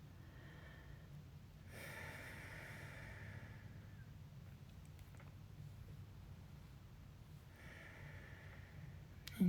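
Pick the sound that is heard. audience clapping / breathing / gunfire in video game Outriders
breathing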